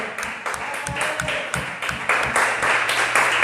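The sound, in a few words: congregation applause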